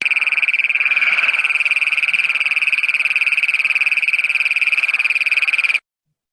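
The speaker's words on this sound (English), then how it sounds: "how loud some of these ponds can be in the spring when all of these toads and frogs are" A loud, dense chorus of frogs and toads gathered at a pond in spring trills continuously in a fast pulsing rhythm close by, then stops abruptly near the end.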